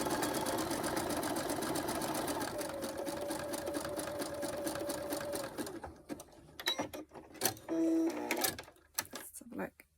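A sewing machine stitching a knicker back gusset seam at stitch length 1.8 runs in a steady close whir for several seconds, then stops and gives way to scattered clicks and short mechanical bursts.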